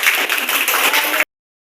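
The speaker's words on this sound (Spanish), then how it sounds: "Muy bien, aplausos para su compañero." Classroom applause for a student after a presentation in a secondary school, a dense burst of clapping from a group of classmates lasting just over a second before cutting off abruptly.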